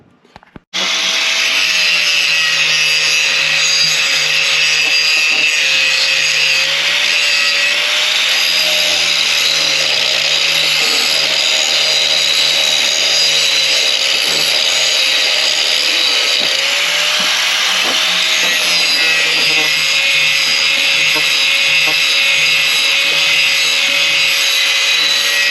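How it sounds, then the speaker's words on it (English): Disc grinder working a steel pipe on the cab of a Massey Ferguson 8670 tractor: a loud, close, steady high-pitched grinding roar with a wavering motor whine that runs unbroken after a brief start. "I'm going to get the disc grinder in here and have a good time with that"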